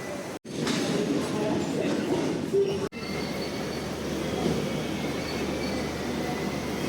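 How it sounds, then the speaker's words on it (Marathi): A train pulls into Panvel railway station in India with a loud, close, continuous rumble of rolling carriages and squealing wheels that holds steady throughout, with faint voices underneath. "फायनली ट्रेन आली आहे"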